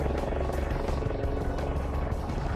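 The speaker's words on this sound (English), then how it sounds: "helicopter doesn't fly. It beats the air into submission." A helicopter's rotor thumps in a rapid, even rhythm beneath a loud, continuous engine whine, close and dominant throughout.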